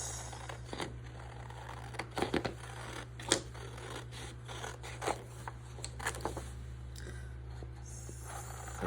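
Scissors cutting paper for a handmade paper craft journal kit, a series of quiet, crisp snips and rustles in irregular bursts over a low steady hum, close and faint.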